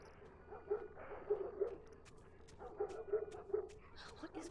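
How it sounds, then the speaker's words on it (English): Dogs bark and yip off in the distance within The Last of Us Remastered, several short, quiet bursts coming in loose clusters over a low ambient backdrop. "Dogs barking, that's never good"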